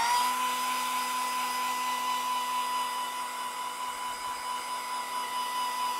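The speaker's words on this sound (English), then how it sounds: "Let me hit it with a hairdryer." A hair dryer blows steadily on a copper piece to speed up its patina. The high whine and airflow run continuous and close throughout, with no other sounds.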